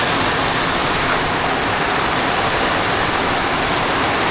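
Steady rain pours outdoors in a village, a dense, even hiss of drops on surfaces that stays loud and constant throughout with no voices.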